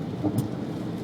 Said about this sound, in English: it's probably the sweet Seattle rain pouring down onto my windshield.